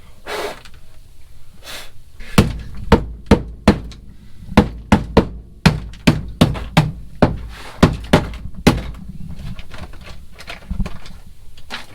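Hammer blows knocking frozen sound deadening rubber off the metal floor of a first-generation Toyota Celica project car, around eighteen sharp, close strikes in uneven bursts with short pauses between them.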